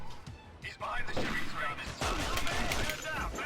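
Pistol shots fired in the video game 007: Nightfire, a few sharp reports mixed with game effects and clatter, moderately loud, with someone talking over them.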